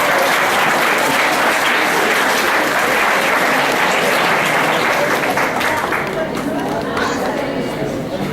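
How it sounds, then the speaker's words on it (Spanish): Audience applause fills a forum hall: dense, steady clapping that stays loud for the whole stretch, with some chatter mixed underneath. "Un aplauso."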